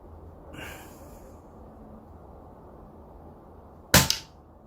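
An Arken Zulus air rifle fires a single pellet shot, one sharp crack near the end after a brief soft breathy noise and quiet background.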